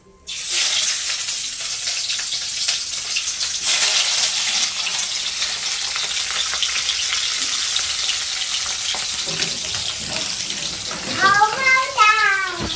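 Hands being washed under a running tap at an outdoor picnic, a steady loud rush of water throughout, with a voice briefly rising near the end.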